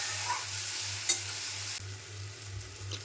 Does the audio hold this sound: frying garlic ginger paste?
yes